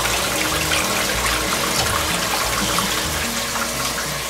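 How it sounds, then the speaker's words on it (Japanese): Running water from a grooming-salon tap or sprayer while a toy poodle is being bathed, a steady, fairly loud rush that continues without a break and has no talk over it. "これ 水の音かな"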